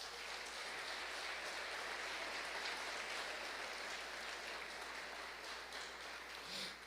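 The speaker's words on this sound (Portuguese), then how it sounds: "Bate palmas para Jesus." Steady congregation applause at a church service fills the whole stretch, a dense, even wash of many hands clapping with no voices on top.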